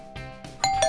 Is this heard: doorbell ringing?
yes